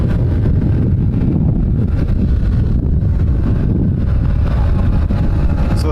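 Strong headwind buffets the microphone during a cycling race, a loud, constant low roar of wind noise with no pauses and no voices.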